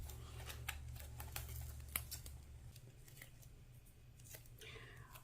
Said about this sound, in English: You don't have to see me cut tape.